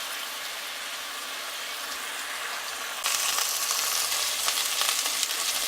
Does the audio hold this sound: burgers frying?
yes